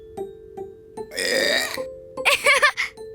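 A few small hiccup-like gulps lead into two long, loud cartoon burps, close and otherwise alone.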